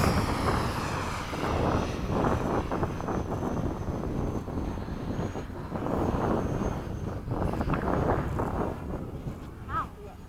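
An FMS 80mm Hawk model jet flies at an RC field, a roaring whoosh of ducted-fan thrust that rises and falls as it passes, mixed with wind buffeting on the microphone and people talking.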